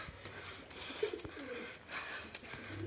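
Pigeons coo softly in a loft, giving low, rolling coos over faint background rustle and a few soft clicks, fairly quiet and without talk.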